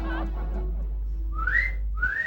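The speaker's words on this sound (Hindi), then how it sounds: "ये बाहर देख के सीटी किसे बजा रहा है?" Someone whistles at a neighbour from a window, two rising whistled notes over a steady low hum, fairly loud and close with no speech.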